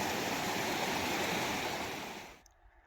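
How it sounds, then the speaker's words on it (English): A shallow, low-water river at a hiking crossing in Scotland's Cairngorms, Glen Lui, rushing and babbling in a steady broadband wash close by, then abruptly cutting off near the end, with no talking. "Got a wee river crossing here."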